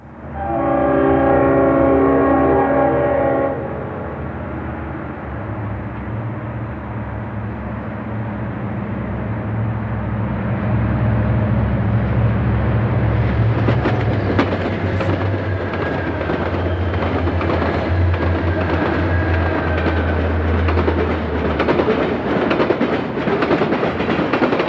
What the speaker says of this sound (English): a Susquehanna stack train roared through Ramsey, New Jersey, on the former Erie Main Line